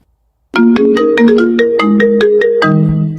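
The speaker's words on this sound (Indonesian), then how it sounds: "ada telepon bang" A telephone ringtone in an animated school drama begins abruptly after a brief silence and plays a bright, loud electronic melody of stepped tones that continues steadily to the end, with no voices over it.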